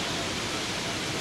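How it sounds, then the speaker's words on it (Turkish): Tomara waterfall in Şiran rushes steadily, its icy water foaming down through greenery in a dense, unbroken hiss with no other sounds. "yeşillikler içerisinden köpük şeklinde akan buz gibi suların oluşturduğu ses"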